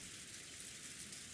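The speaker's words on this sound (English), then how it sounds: "we always have the sound of the rain in the background" Steady rain ambience from the Umineko When They Cry visual novel game, a soft continuous hiss of rainfall holding at an even, quiet level throughout with no voices.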